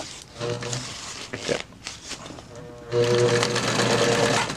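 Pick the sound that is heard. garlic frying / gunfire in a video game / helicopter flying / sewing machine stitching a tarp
sewing machine stitching a tarp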